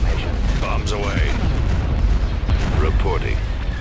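Bombs dropped from spacecraft in the Star Wars strategy game Thrawn's Revenge burst in a continuous rumble of heavy booms and artillery-like blasts, with radio chatter from pilots mixed over the din.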